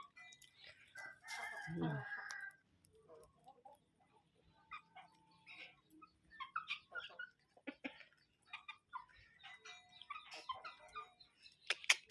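A farmyard rooster gives a loud crow near the start, and chickens cluck and chatter in scattered bursts for the rest of the time, all at moderate to close distance.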